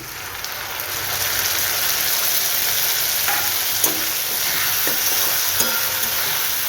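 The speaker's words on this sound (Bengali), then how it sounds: "এবার এর মধ্যে একটা টমেটো আর একটু আদা বাটা আমি দিয়ে দিলাম" Peas with tomato and ginger paste fry in a pan with a steady, close crackling sizzle, broken by a few sharp scrapes and taps as they are stirred. No one talks.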